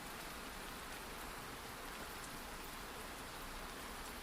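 Rain falls in a dense, even hiss with no breaks, loud and close, with no voices over it.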